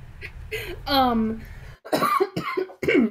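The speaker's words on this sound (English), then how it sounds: "I'm gonna cough up a lung real quick." A few harsh coughs mixed with a voice, loud and close, with short gaps between bursts.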